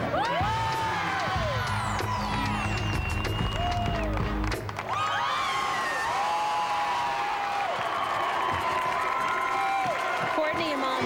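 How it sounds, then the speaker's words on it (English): A Georgia cheering section in the stands at the 2005 NCAA gymnastics championships, a crowd cheering and whooping with shrill calls and clapping, steady arena roar throughout with voices mixed in. "Courtney and mom Patty leading the Georgia cheering section for Ashley"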